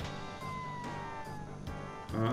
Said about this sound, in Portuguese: Um gatinho, não!